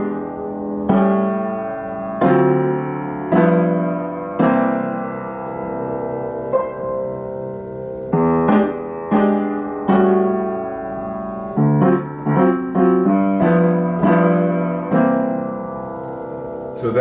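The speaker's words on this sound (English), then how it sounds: "So this is the sound of the bass." A bass line moving through a blues progression with secondary dominant chords, played as a sequence of plucked, ringing notes in an irregular rhythm, some held and some quick, clear and close with no talking.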